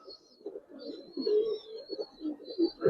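Giribaz coloring pigeons, an old breed from Old Dhaka, give close, continuous throaty coos that rise and fall in a soft rolling murmur, with faint higher chirps above.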